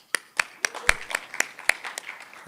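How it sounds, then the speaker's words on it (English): A small audience at a Bitcoin conference workshop stage claps briefly, a few distinct close hand claps in an uneven rhythm that thin out and fade. "So a round of applause for everyone."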